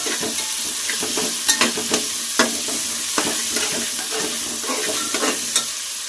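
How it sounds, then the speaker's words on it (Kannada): Onions frying in a pan until golden for a vegetable pulao, a steady close sizzle with scattered spoon scrapes and stirring clatters throughout, no voices. "ಗೋಲ್ಡನ್ ಕಲರ್ ಬರೋ ಗಂಟ ಫ್ರೈ ಮಾಡ್ಕೊಳ್ಳೋಣ"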